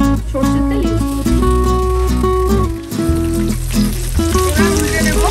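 Pabda fish fry one by one in mustard oil in a pan, with a continuous crackling sizzle under background music.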